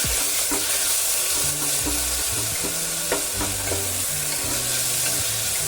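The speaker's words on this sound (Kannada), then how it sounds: "ಕಡೆದಾಗಿ ನಾವಿಲ್ಲಿ ಹೆಚ್ಚಿಟ್ಕೊಂಡಂತ ಟೊಮೆಟೊನ ಹಾಕೋತಾ ಇದ್ದೀನಿ" Chopped tomatoes sizzle in a hot pan while being stirred for broken wheat khara pongal, a loud, steady frying hiss broken by occasional scraping stirs, close up with no talk.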